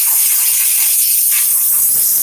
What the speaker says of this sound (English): Put the steamer real quick. That's just to prepare the leather.